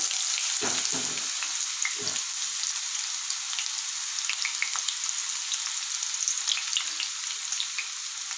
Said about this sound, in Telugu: ఆయిల్ వేడెక్కింది కదా దీంట్లో ఉల్లిగడ్డ ముక్కలు సన్నగా కట్ చేసుకోవాలి